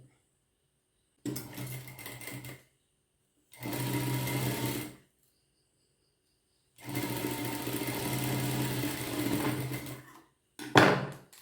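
A sewing machine stitches a folded fabric edge in three close, steady runs separated by pauses, followed by a short final burst.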